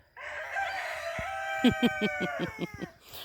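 A rooster crows loudly and close by, a long drawn-out call ending in a series of quick, choppy notes.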